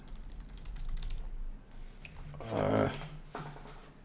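Typing on a computer keyboard, quick clusters of close key clacks with a louder burst of keystrokes midway, while someone talks at times.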